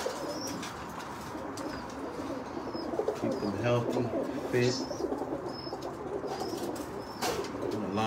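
Low, throaty coos from spinner pigeons in a loft recur in short bursts amid light chirps and occasional wing flaps, with someone talking briefly over the birds.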